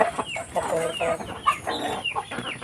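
Native chickens, brown breeder hens at a provincial farm, clucking close by in a rapid overlapping chatter of short calls across a brief stretch, with no talk heard.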